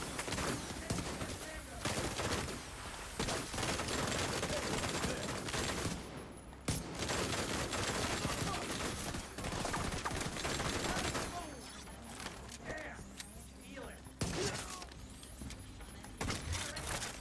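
Rifle gunfire in the shooter game The Division 2, dense bursts of rapid shots and automatic fire filling the scene continuously, with a player's voice speaking occasionally over it.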